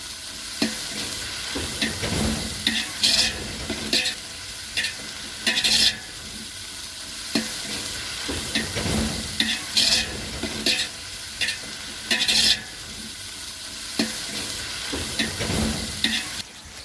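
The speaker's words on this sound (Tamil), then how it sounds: "நல்லா போட்டு வதக்கிட்டே இருக்கணும்." Onion paste with ground masala sautéing in a pan for village-style mutton biryani, a steady sizzle broken by repeated scraping stirs every second or two, close and fairly loud, with no talking.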